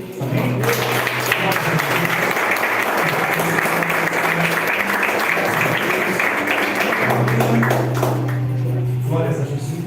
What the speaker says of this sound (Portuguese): Então adore o Senhor com as suas palmas também.